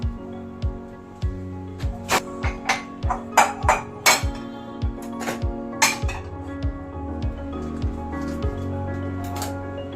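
Cups, spoons and cooking utensils clink and tap close by as they are put away in a kitchen, a string of sharp metallic and ceramic knocks in an irregular rhythm over a low background hum.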